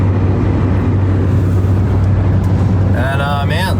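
A vehicle passes on a lightly travelled road near Burgeo, Newfoundland, giving a constant loud road rumble with a brief voice near the end.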